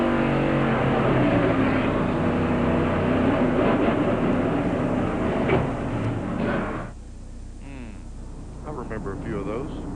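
In-car audio from a NASCAR stock car at Richmond in 1993: a loud, steady engine roar with harmonic drone dominates, then drops sharply near seven seconds to a quieter, wavering engine tone.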